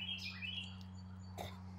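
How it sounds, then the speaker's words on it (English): Small birds chirp outdoors in quick, high, thin tweets, moderately close, with one brief sharper call near the end over a steady low electrical hum. "Birds."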